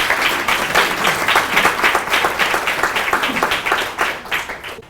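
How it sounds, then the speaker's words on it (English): An audience at a community panel on Denver schools gives a round of applause, loud, close clapping with an uneven rhythm that tapers off toward the end. "Round of applause."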